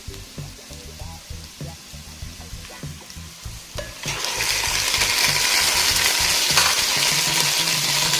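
Chicken pieces for afritada dropped into a hot pan, starting with rhythmic stirring and scraping over light sizzling, then a loud, steady sizzle of frying taking over.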